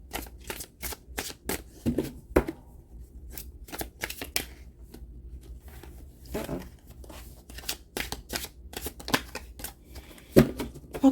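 Tarot cards being shuffled by hand, crisp riffling bursts and sharp snaps repeating in uneven clusters, close and dry with short pauses between shuffles and no talking.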